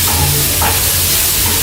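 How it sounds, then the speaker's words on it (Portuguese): Garlic and half a red onion sizzling in a frying pan, a dense, steady, loud crackle close up, with faint stirring scrapes and no talk. "Então só uma dourada bem rápida mesmo aqui no alho. Já vou colocar a cebola"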